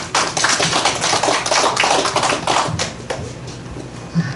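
Audience applause at a 2019 year-end gathering and Buddhist service of the Korean Buddhist singers' association: dense, loud clapping from a crowd that runs steadily, then thins out and tapers toward the end, with no talking.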